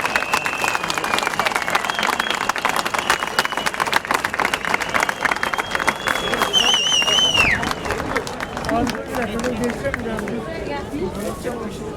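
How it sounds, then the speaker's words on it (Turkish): A crowd at a union rally applauds and cheers to welcome arriving workers, rapid dense clapping under loud chatter and shouts, with a whistle piercing through midway before the noise thins. "Bir alkış istiyorum."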